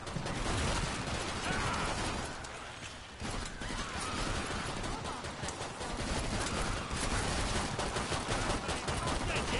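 Pistol fire among several players in Killing Floor 2, a dense, nearly continuous barrage of close, loud shots that breaks off briefly partway through before resuming.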